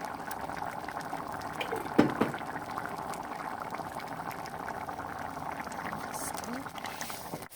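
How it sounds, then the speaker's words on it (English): Spicy black bean chili simmering in a covered pot, a faint steady bubbling hiss with one brief clink of the lid near the start, otherwise quiet and even. "So we are covering it back up so it can simmer for a little bit more."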